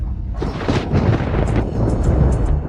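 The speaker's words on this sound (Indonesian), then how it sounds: "Inikah 9 langit petir kesengsaraan?" Heavy, rolling thunder from a heavenly lightning tribulation in a drama, a loud, sustained rumbling roar with crackling surges that continues throughout.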